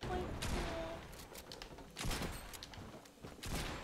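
Minigun fire during a Fortnite match, heard as bursts of rapid gunfire in several surges spread across a few seconds, with game noise and voices around it.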